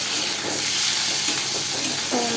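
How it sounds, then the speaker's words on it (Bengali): Potatoes fry in a pan with a broad steady sizzle and hiss, joined by a few faint stirring scrapes, close and continuous. "এবার আমি আলুগুলো দিয়ে দেবো, দিয়ে ভালো করে ভেজে নেব।"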